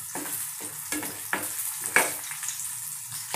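Green chillies fry in hot oil over low flame, a steady sizzle broken by several stirring scrapes and small pops, close and on its own.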